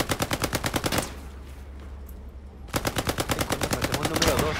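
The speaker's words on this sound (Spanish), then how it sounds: "me disparan desde el puente" Rapid machine-gun fire from a bridge in Hell Let Loose, a loud close stream of evenly spaced shots that stops for about two seconds, then resumes at the same steady rhythm.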